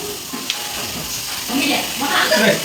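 Spices with salt, turmeric, cumin powder and diced potatoes frying in a pan while being stirred, a continuous close sizzle with scraping stir strokes that grows louder toward the end.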